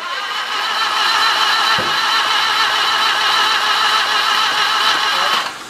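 A Subaru Justy 1.2-litre three-cylinder engine cranks during a start attempt after a rebuild, a loud, steady mechanical whir running for several seconds before cutting off abruptly.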